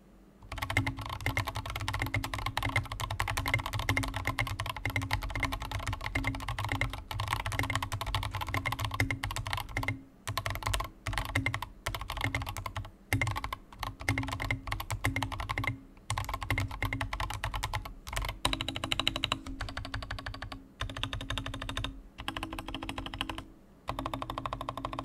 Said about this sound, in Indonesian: kalian bisa dengar typing testnya di sini